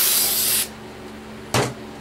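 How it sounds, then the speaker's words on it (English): Brake cleaner sprays onto a brake rotor of a 1993 Silverado K1500 in two hissing bursts, a long close spray followed by a short second blast. "Just use some brake cleaner"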